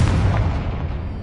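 Confringo blasting curse exploding in Hogwarts Legacy, a loud, dense burst with a heavy low boom that rumbles and decays over about a second, standing alone without talk.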